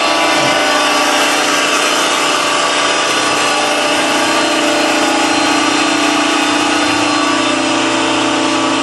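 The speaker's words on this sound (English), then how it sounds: "engaging the hydraulic pump." Loud, constant mechanical drone of a Clark horizontal baler's hydraulic pump engaged and running, a dense steady whine and rumble that holds unchanged throughout with no voices.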